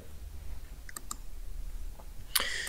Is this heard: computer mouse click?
yes